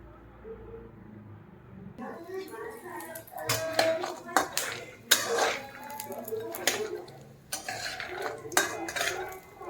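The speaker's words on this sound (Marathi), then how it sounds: "थोडंसं तूप टाकून अगदी कडवट करायचं नाही आहे आणि फुटाणे ऑलरेडी आपले भाजलेले असतात त्यामुळे डायरेक्ट मी टाकणार आहे मिक्स करून" Dry fruits and roasted chickpeas are stirred in ghee in a pan, producing clinking spoon-on-metal knocks and scraping in an uneven rhythm, close and moderately loud, with a voice speaking at times.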